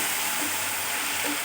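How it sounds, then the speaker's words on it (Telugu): Green chillies frying in hot oil for a fish curry, a dense, constant close sizzle and hiss with faint stirring underneath. "పచ్చిమిర్చి కూడా ఇందులో వేసుకొని వేపుకోవాలి."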